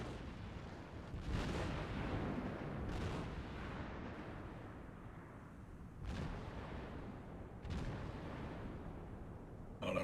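Naval gunfire in the Task Force Admiral video game: four heavy booming blasts land a few seconds apart, each a broad rumbling burst over continuous low battle noise, with no talking.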